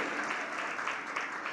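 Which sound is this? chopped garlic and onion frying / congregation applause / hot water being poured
congregation applause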